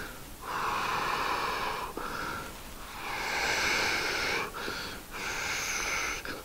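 A person imitates asthmatic breathing, voicing labored, wheezing breaths with heavy, drawn-out exhalations in three or four long strained pushes, close and loud with no talking.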